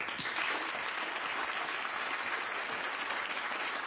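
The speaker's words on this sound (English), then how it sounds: "Give them a round of applause." Steady applause from a TV talk-show studio audience fills the whole stretch, a dense patter of many hands clapping at a moderate distance.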